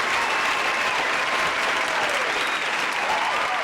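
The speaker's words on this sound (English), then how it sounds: "can I have some applause?" An audience at a dating and self-help book talk breaks into steady applause. The clapping is dense and sustained, a close and fairly loud wash of hands for a few seconds.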